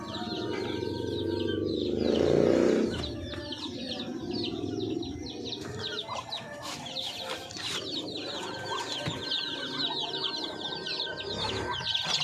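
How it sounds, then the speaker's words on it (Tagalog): Poultry chicks (sisiw) in a farm pen pecking at feed and chirping, a dense, continuous chorus of small peeps and clucks with a louder burst near the start and scattered pecking taps throughout. "lakas na kumain yung ating mga sisiw kasi medyo malalaki na"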